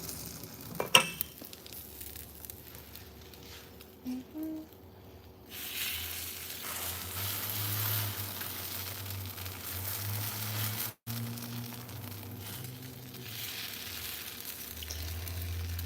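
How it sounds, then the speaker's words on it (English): A few clinks, then a steady hissing sizzle of German potato pancakes frying in a hot pan sets in and continues, with a low hum underneath. "Nice sizzling sound."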